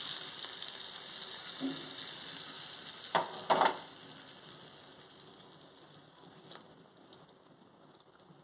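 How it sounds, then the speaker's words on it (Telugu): A hiss of hot tempering oil poured into spinach dal off the stove, a couple of sharp sizzling bursts, then a softer, fading crackle that continues steadily. "ఇప్పుడు పోపు ఇందులో వేసేసుకుంటున్నాను"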